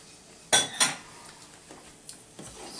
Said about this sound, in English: we're going to stir in the cream cheese here